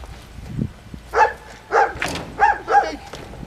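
A puppy barking in short, high yips, about five quick barks close by following a soft low noise at the start, with no talk over them.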